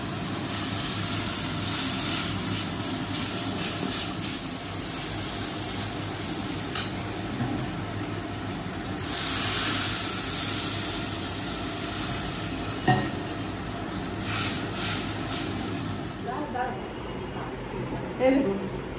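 A continuous sizzling hiss rises as spices, mustard paste and turmeric powder hit hot oil for a fish curry, steady throughout with someone talking over it.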